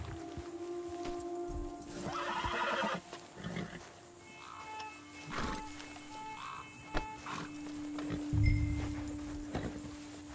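A horse whinnies and snorts amid hoofbeats in the Red Dead Redemption video game, set against a steady ambient hum with scattered rustling and a low thump near the end; no speech is heard.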